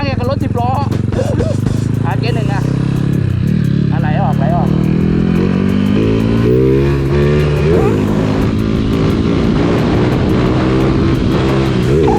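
A 125cc motorcycle accelerates hard at full throttle, its loud engine note climbing steadily in pitch through the gears, with a person talking excitedly over it throughout.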